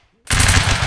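A line of muskets fires a single sudden, loud crackling volley in the Napoleonic Wars video game, the ragged burst rolling on for most of a second after a moment of near silence.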